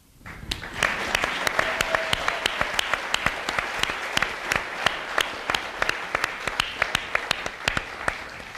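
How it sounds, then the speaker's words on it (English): An audience applauds for someone's mother at a Building Inclusive Cities event, with steady, sustained clapping and distinct sharp individual claps standing out from the crowd throughout. "let's give a round of applause for his mom"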